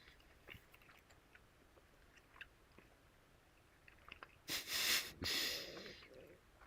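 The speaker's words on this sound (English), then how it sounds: "I really hope you guys cannot hear me chewing." Someone chewing food close to the microphone, with a burst of loud, wet mouth sounds near the end after a stretch of quiet, faint breathing and small noises.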